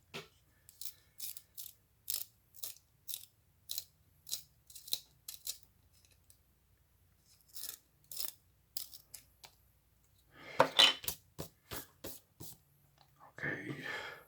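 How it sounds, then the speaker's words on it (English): A pencil being sharpened by hand during a drawing session: short, scratchy grinding strokes repeated in quick bursts, quiet and close, ending with a louder flurry of twisting scrapes. "I sharpen it a little bit."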